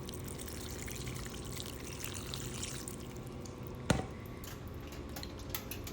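Chicken bouillon broth is poured into a pot of casserole ingredients, a low continuous liquid pour with a faint trickle and one brief clunk partway through.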